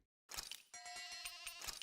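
A sheep in the Tales of Arise video game gives a short run of game-sound bleats, a wavering tone that starts after a brief silence and fills the clip, loud and close with no talking.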